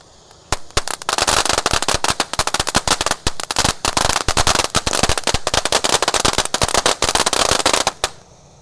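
Rapid, loud crackling bursts of a 200-shot roman candle firework going off in a dense, continuous barrage for several seconds, then stopping abruptly.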